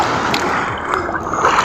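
Big, powerful ocean waves wash and churn close by in a steady roar, with a few splashy surges rising out of the rush of water.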